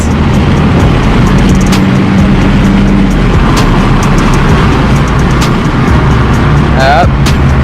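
An Abarth 500 Esse Esse runs at a loud, steady engine roar with exhaust pops, heard from close by, and a few sharp crackles break through near the end.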